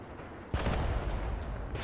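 Artillery smoke barrage in the video game Mius Front, a sudden heavy booming burst followed by sustained rumbling blasts and rolling explosions, loud and dense.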